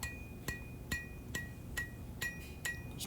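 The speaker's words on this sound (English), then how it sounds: "And now I'm just using that lighter hammer and taking out the hammer marks." A lighter hammer planishing a hand-forged hunter knife blade at low heat, seven crisp evenly spaced metallic strikes with a bright ringing overtone, quiet and close with nothing else heard.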